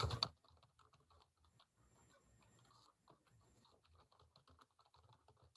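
Typing on a computer keyboard during a remote class review session, a quiet steady patter of soft key clicks running throughout after a brief louder knock at the start.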